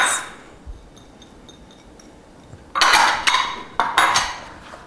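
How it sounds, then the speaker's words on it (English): A knife chops celery and green onions on a cutting board, starting with light taps and then a few bursts of quick, sharp chopping strokes near the end, close and clear. "Run my knife through this a couple more times to blend it together"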